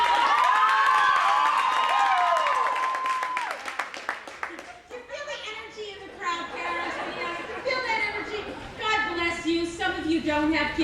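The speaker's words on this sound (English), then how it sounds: "if you're not a parent, I'd like to hear you by a round of applause." A stand-up comedy audience breaks into applause, cheering and chatter that swells after a voice fades out, holding as a dense, lively crowd roar to the end.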